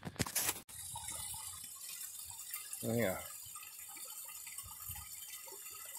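Water flows steadily beside a thawing pond on a hike at Greenleaf State Recreation Area, a soft continuous outdoor wash with a voice speaking briefly over it.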